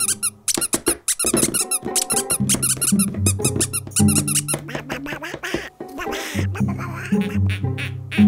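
Rubber ducks squeak loudly and repeatedly in rapid, irregular bursts, with quack-like honking squeals layered over a low toy-like drone throughout.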